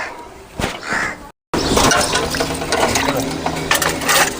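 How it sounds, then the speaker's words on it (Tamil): Water at a rolling boil in a pot while cooking banana flower curry, a steady bubbling, crackling churn that runs loud and close after a brief gap of silence. "தண்ணி நல்லா கொதிக்குது."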